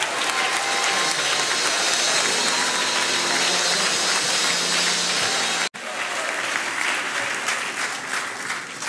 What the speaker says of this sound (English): I invite you to stand and receive today with glad words and appreciation of applause, Senator Bob Menendez.